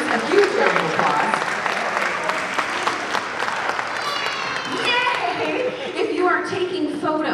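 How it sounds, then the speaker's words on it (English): A jazz festival audience of students and teachers claps and cheers loudly, with children's voices and scattered shouts mixed in, and a voice speaks over the fading applause near the end. "give yourselves and your students a huge round of applause"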